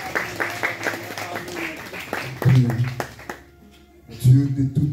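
A church congregation applauds in a brisk burst of clapping mixed with voices, fading into quieter talk before another short swell of sound.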